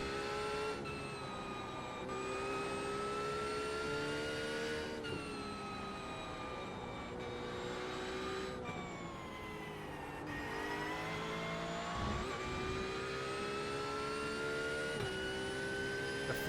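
Several GT4 race cars battle into turn one at Charlotte Roval, engines roaring loud and continuous with layered harmonic whines, gear changes and revs rising and falling as cars jostle close together.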